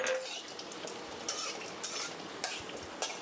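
Spices brought from Kerala fry quietly in a pan while a utensil scrapes and clinks against it in regular stirring strokes over a low sizzle.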